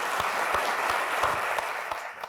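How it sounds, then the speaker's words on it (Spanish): Applause from the audience at a breakfast forum with the Governor of the Bank of Spain, a steady, dense crowd clapping that stays even and fairly loud throughout, with a few sharper individual claps standing out. "Muchísimas gracias, un aplauso"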